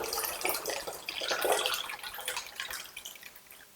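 Water splashes and trickles steadily as a color film developing container is rinsed out after processing, a close, continuous wash with no talking.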